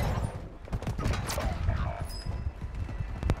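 Rapid bursts of gunfire in a video game battle royale match, with sharp cracks scattered over a dense, busy mix of game noise and voices talking throughout.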